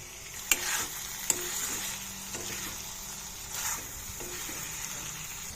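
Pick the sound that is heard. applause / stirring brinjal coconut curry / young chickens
stirring brinjal coconut curry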